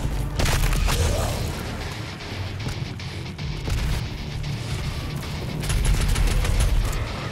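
Weapon fire in DOOM Eternal, on the Hell on Earth level, pounds along as heavy, booming blasts with a rumbling low end, sustained and loud across the stretch with slight swells.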